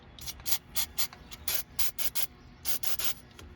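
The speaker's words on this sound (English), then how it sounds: "take some fogging oil to spray it on that O-ring" A series of short, sharp aerosol bursts of fogging oil sprayed onto a Sea-Doo fuel pressure sensor O-ring, about a dozen quick hissing puffs at an uneven rhythm, close and fairly quiet.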